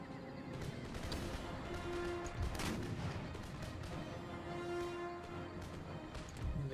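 Cannon firing canister shot in Empire Total War, with booming gunfire mixed into a dense battle din of horses neighing and galloping, continuous and moderately distant, with no voices.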